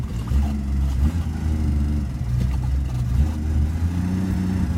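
A carbureted engine idles with a low, uneven rumble that holds steady and close, with a slight wavering pulse.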